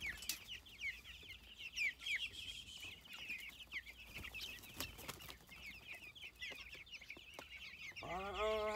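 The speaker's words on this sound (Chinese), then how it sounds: "今天一大早来喂鸡" Chickens on a rural farm cluck and chatter steadily at morning feeding time, a busy overlapping flock with scattered sharp calls, close by outdoors, with no talk.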